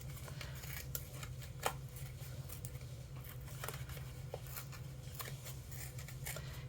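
Paper being torn by hand around a butterfly silhouette cutout, a soft run of close, papery rips and crinkles with small sharp snaps over a low steady background hum.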